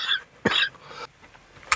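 A man coughs in short bursts, with a harsh cough near the middle and a brief second one near the end, close and fairly loud in a quiet space.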